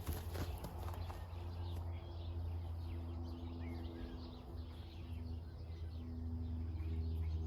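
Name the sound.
horses moving about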